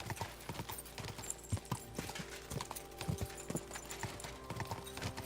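Horse hooves clip-clop steadily in Kingdom Come Deliverance 2, a rapid irregular train of hoof knocks on the ground under an ambient game soundscape.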